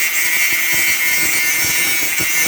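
A power tool cuts with a blade while the frame of a chicken tractor is being built, giving a steady, loud, hissing whine with irregular knocks and bumps underneath. No one speaks.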